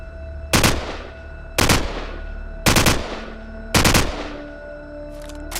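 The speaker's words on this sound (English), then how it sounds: "So, 4 short bursts." An assault rifle in Call of Duty 4 fires four short, evenly spaced bursts, each a loud rapid cluster of shots with a ringing tail, followed by a faint metallic clink.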